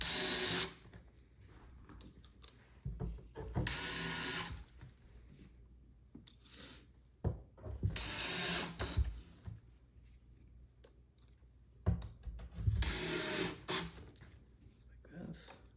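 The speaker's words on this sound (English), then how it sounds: "got our Phillips bit or Phillips screwdriver and start installing these screws" Black screws being driven into a wooden farmhouse shoe bench with a Phillips bit or screwdriver, giving several short bursts of whirring and grinding separated by quiet pauses, close by.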